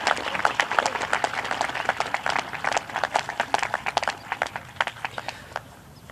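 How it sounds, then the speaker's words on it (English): Scattered applause from a school scholarships and awards ceremony audience, uneven hand claps that thin out toward the end, moderately distant, with no speech over it. "Please give a round of applause to our Science Department winners"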